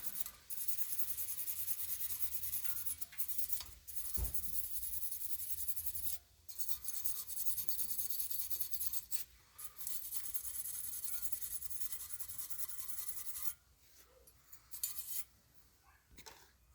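Brake caliper bracket hardware on a 2014 Lincoln MKX being scrubbed clean, steady rasping strokes up close that repeat with a few short pauses, ending in quieter scraping.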